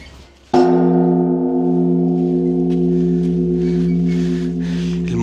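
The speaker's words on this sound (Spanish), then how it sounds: "esta campana solamente la tocan 3 veces al día" A large Buddhist temple bell at Koyasan, Japan, is struck once by a monk pulling a chain. The loud, close strike opens into a long, deep, steady hum that rings on undamped.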